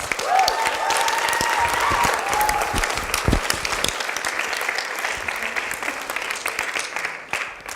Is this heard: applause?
yes